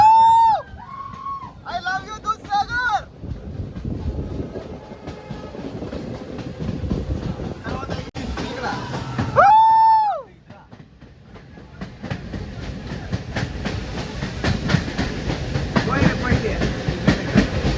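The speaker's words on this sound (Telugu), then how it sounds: "ఇక్కడ ట్రైన్లో వెళ్తుంటే అది దూద్సాగర్ ఎలాగ ఉంటుందో అనేది" Train riding past Dudhsagar, with a steady rolling rumble and clatter throughout and a few brief tonal, horn-like calls near the start and middle.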